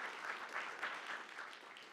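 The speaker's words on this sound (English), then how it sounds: "let's start by giving a round of applause for our panelists" Faint, steady applause for a panel at a talk on government jobs, a soft, even patter of many hands at a distance that lasts the whole moment without voices.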